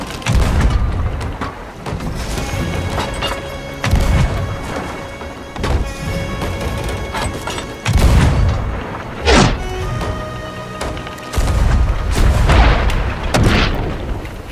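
Ship cannons in Sea of Thieves fire repeated heavy booms and crashes at uneven intervals, loud and close, with rumbling impacts between blasts in a chaotic naval battle.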